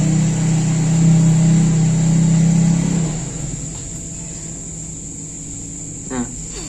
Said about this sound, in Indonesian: Mohon maaf sebelumnya ada suara motor.